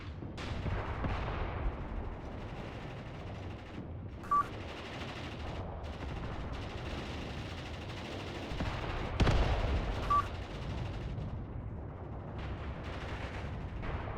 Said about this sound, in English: Mainly machine guns and AT guns dealing with this stuff right now.